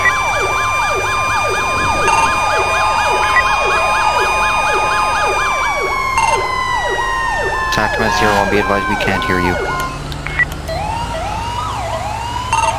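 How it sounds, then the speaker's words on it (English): Police sirens in a roleplay video game wail loud and close, cycling in a rapid yelp before shifting to a slower rising-and-falling tone, with radio chatter over them. "code 2, set your sirens off"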